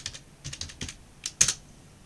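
Keys tapped on a computer keyboard while a password is entered on an Ubuntu 22.04 Linux machine, a short irregular run of close, crisp clicks ending in one louder keystroke.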